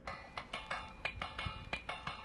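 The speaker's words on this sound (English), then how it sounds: "Then I added a percussion loop," A retro-processed Afro-Cuban percussion loop plays on its own: quiet, evenly spaced bright clacking hits with a dry, clinking tone, steady and rhythmic.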